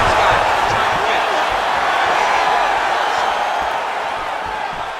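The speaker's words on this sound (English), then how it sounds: "And you hear the crowd." Arena crowd at a UFC fight between Max Holloway and Arman Tsarukyan, a dense continuous roar of cheering and shouting that stays loud throughout, easing slightly toward the end.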